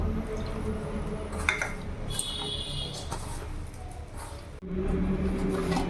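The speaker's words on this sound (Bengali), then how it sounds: "এবার অল্প অল্প জল দিয়ে আমি ভালো করে মেখে নেব" Water is added bit by bit while beetroot and carrot paratha dough is kneaded by hand, giving faint wet squishing and patting. Light clinks and splashes sit over a low background hum.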